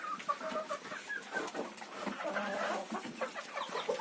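Chickens clucking softly inside a winter coop with straw bedding, a scatter of short faint clucks and chirps overlapping at irregular intervals, quiet and close.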